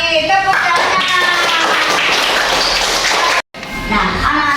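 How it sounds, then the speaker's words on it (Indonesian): Children in an Islamic religion class clap their hands together in a dense burst of claps mixed with voices and chatter, stopping abruptly near the end before the room noise returns. "Tepuk tangan."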